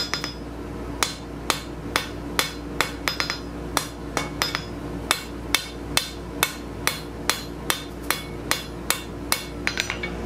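Hot steel is hammered on an anvil to taper a no-weld scroll bending jig, about twenty sharp ringing blows at a steady even rhythm, close and loud, with no speech.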